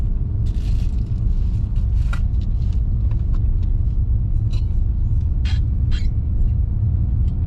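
A learner driver's car moves off under gentle throttle, heard from inside the cabin as a loud, steady low engine rumble with a few faint clicks and rustles over it, no talking.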